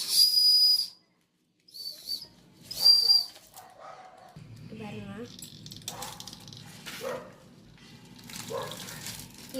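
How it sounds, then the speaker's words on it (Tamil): Bursts of a shrill toy whistle, a small prize from an unboxing of chocolates, are blown up close several times in short, airy blasts. Talk follows afterward. "எனக்கு ஒரு விசில் கிடச்சிருக்கு"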